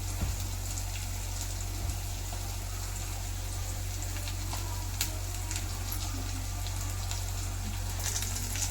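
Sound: onions sautéing in a pan

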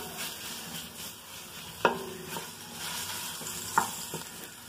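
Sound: garlic frying in hot lard in pot

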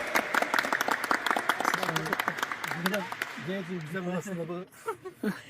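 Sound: applause

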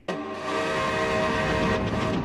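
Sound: ghost train approaching

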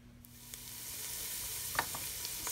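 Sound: garlic sautéing in a pan

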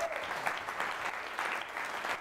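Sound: congregation applause in church

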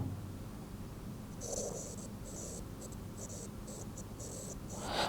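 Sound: stylus pen writing on phone screen

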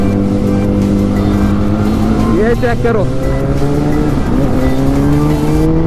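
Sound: Kawasaki ZX10R motorcycle engine revving

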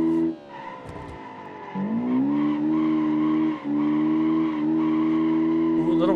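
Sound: car scraping a wall in the video game BeamNG

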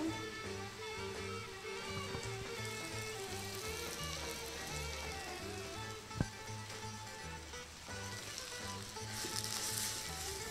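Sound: spinach frying in a pan

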